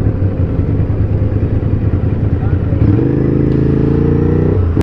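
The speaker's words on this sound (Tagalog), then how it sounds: "Sundan na lang natin ang mga motor na ito." Motorcycles, including Ducati Scramblers, ride toward a club on a group ride, engines droning steadily and loud up close, with the tone shifting as one revs around the midpoint.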